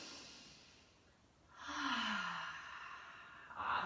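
A deep yoga breath drawn in and let out as a long, audible sigh, close and fairly soft, with no talking.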